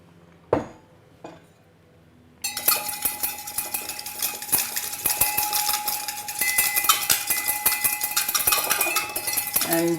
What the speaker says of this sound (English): Then we whisk in 3 tablespoons of olive oil.